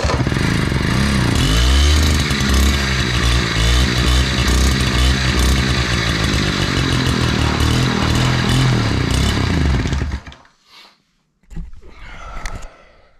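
An old moped pulled out of a barn after long storage, its small engine fired up and running with a loud, steady buzzing rattle that cuts out abruptly near the end, followed by a brief sputtering restart.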